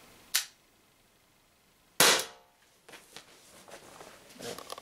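Two sharp cracks come from an Umarex HDR50 CO2 air pistol firing, each loud and close with a short decay, spaced well apart, followed by faint shuffling handling noise.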